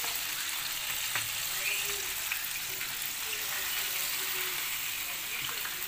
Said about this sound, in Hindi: ज़बरदस्त फ्राई हो गए हैं लेग पीस